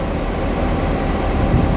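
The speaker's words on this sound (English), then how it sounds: "we've got this train going" A Tiltlander train on the Brisbane–Rockhampton line runs along the railway, giving a loud, continuous rumble of wheels and carriage noise with no break.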